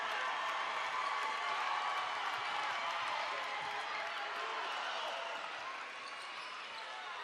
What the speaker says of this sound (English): the crowd gives the Lancers a huge standing ovation